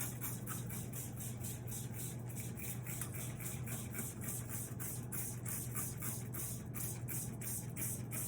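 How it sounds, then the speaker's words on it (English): A spray bottle or hose mists water onto a screen printing screen in a home workshop, a quiet steady hiss broken by rapid repeated spritz pulses over a low electrical hum. "I'm going to really spray this down"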